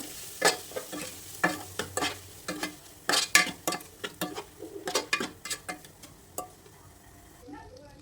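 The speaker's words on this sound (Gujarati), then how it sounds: "સૂકા મસાલા ઉમેરી લઈએ કાશ્મીરી લાલ મરચું ધાણા જીરું સ્વાદ અનુસાર મીઠું ઉમેરીને સરસ ફ્રાય કરી લઈએ" Onion-tomato masala with Kashmiri red chilli, coriander-cumin powder and salt fries in a hot pan while a spoon stirs in quick irregular scraping bursts over a soft sizzle, falling quiet toward the end.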